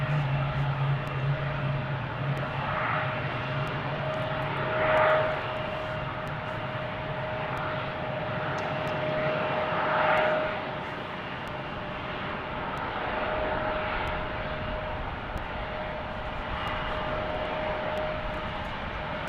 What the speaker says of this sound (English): Looks like it'll be Southwest 1484 on a 737-700.